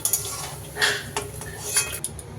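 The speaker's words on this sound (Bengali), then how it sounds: "এবার আমি পনিরটা প্লেটের মধ্যে তুলে নেব।" Fried paneer being lifted from a pan onto a plate: a handful of sharp metal clinks and scrapes of a utensil against cookware, spaced out over a low background hum, close and fairly quiet.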